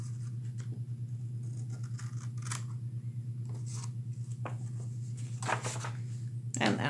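Scissors snip through paper pieces of a 12-piece optical illusion craft in a series of short, crisp cuts, close and moderately loud, spread irregularly over a steady low background hum.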